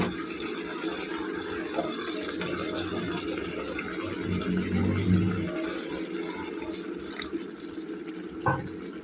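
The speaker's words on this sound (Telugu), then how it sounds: "కారం కలుపుకున్న తర్వాత కొద్దిగా వాటర్ పోసుకోవాలండి" Water is poured into a ridge gourd curry in a pan, a steady splashing flow for several seconds, close and fairly quiet, with no voices.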